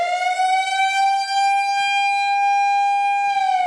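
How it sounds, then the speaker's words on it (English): A WS 3000 warning siren sounds as a loud, steady, sustained wail with a rich harmonic tone, holding nearly level throughout with only a slight dip at the end, alone and close. "WS 3000. An eerie warning sound that makes you feel like danger is closing."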